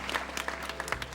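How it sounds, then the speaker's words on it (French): A brief, faint patter of separate hand claps from a studio audience on a French television show, scattered and uneven over about a second. "Et on applaudit parce que c'est un très bon geste."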